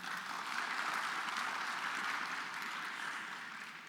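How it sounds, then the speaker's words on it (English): An audience at a faculty panel session applauds for a few seconds, a steady wash of clapping that stays fairly faint and alone before tapering off slightly. "Give a big round of applause to Dr. Victor"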